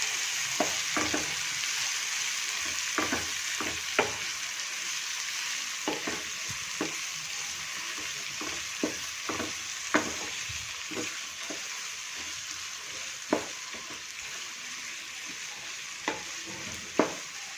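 Chopped capsicum and tomato stirred into frying onion for masala pav, with a steady close sizzle broken by repeated scraping and clinking spoon strokes against the pan throughout.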